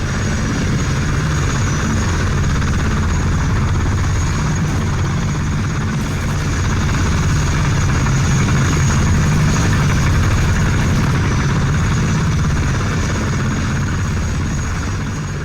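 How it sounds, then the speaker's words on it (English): Steady, loud helicopter rotor and engine drone in S.T.A.L.K.E.R. Call of Pripyat, a dense low rumble with whirring that holds constant for the whole stretch, no talking. "Get in that chopper. Get in the chopper."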